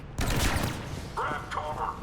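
Gunfire in a fight in Mass Effect Legendary Edition, a short loud volley of shots and impacts with a dense battle din behind it.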